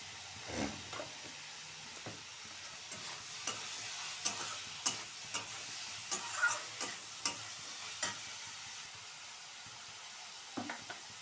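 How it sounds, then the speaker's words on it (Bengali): A spoon stirs a mung dal and rice mixture in a pot for mung pulao, giving a steady run of soft scraping strokes and light clicks against a faint background hiss. "এবার এই তিনটে মিশ্রণ ভালো করে নাড়াতে হবে"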